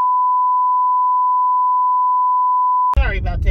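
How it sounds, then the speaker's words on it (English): A phone alert sounds as one long, steady, loud electronic beep at a single pitch lasting about three seconds, then cuts off abruptly as a person starts talking. "Alert came through on my phone"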